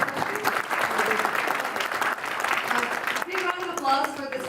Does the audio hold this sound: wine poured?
no